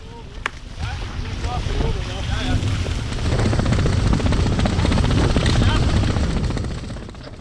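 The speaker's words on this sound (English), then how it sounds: "the helicopter gets louder and louder and louder" A helicopter's rotor drone builds steadily louder over wind and water noise, heard from a Hobie 16 catamaran under sail, with voices talking underneath.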